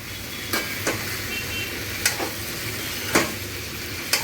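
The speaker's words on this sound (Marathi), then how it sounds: "अशी छान तेलामध्ये पहिल्यांदा ही सगळी" Brinjal pieces sauté in hot oil with onion, tomato and potato, a soft steady sizzle punctuated by several sharp spatula scrapes and taps against the pan, no voices.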